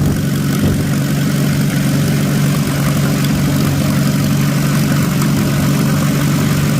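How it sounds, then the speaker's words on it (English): An engine idles steadily at low throttle with the idle screw turned all the way in, giving a constant deep rumble with a slight propeller-like hum, loud and close, with no talking. "Completely down on idle."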